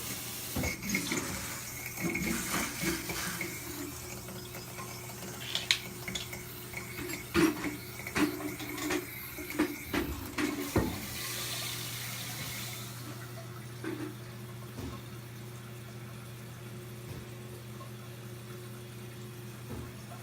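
A freshly rebuilt toilet tank refills with water as a steady, continuous hiss and rush close by. A few light clicks and knocks sound in the first half, then the flow carries on alone at an even level.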